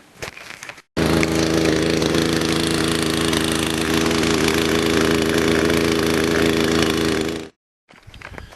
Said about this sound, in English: The chainsaw won't stay running.